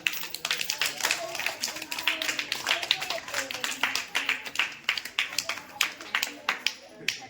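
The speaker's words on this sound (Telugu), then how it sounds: "క్లాప్స్ కొట్టండి." Schoolchildren at a Sankranti celebration clap together in a fast, ragged burst that runs steadily for several seconds, close and fairly loud, with voices talking faintly underneath.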